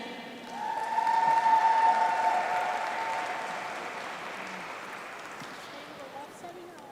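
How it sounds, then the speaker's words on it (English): Clapping swells from an audience at a commencement ceremony for executive MBA graduates, rising quickly then slowly fading over several seconds as a voice briefly carries over it. "Let's give a big round of applause for all the executive MBA students"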